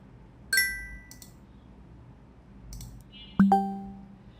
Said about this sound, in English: From here you can change notification sound.